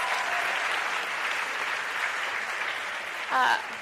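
An audience at a live rally in Washington, DC claps in a sustained, even round of applause, with a brief voice rising near the end.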